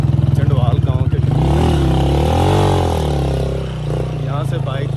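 A motorcycle on a difficult mountain track idles with a rapid low putter, then its engine note swells and falls as it revs, close and loud, with a voice speaking over it.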